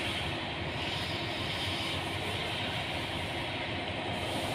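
A car engine runs with a noisy fuel pump, while a dense, steady mechanical roar and hum holds at an even level throughout, with no pauses or separate events.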